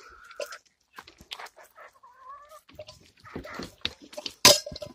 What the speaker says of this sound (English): Happy chickens, though